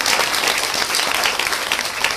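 A large audience at a Hindu religious discourse bursts into loud, dense applause, a continuous wash of many hands clapping close by with no voices on top.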